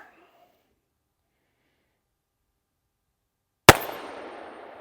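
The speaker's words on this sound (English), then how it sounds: "So got loaded up here with 5 rounds of 460 Magnum." A single deafening blast from a Taurus 460 Raging Hunter revolver firing a .460 Magnum round outdoors, arriving after near silence and ringing out in a long fading echo.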